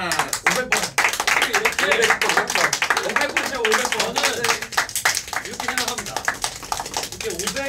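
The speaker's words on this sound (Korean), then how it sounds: "그리고 500일을 기념해가지고 박수 한번 칠까요?" Members of the K-pop group ENHYPEN clap together to celebrate 500 days during a live stream, making loud, dense rounds of hand claps with laughter and excited voices mixed in.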